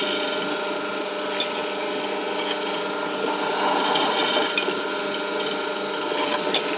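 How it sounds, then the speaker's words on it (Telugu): A wet grinder churns thick urad dal batter made without added water, giving a steady, close rasping and rubbing drone with a couple of faint clicks. "నేను గ్రైండర్లో పప్పు వేసేస్తున్నాను."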